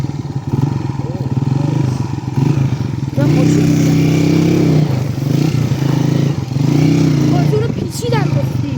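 A motorcycle engine in a video game revs and drones loudly, rising and falling with scraping clatter, while people talk excitedly over it.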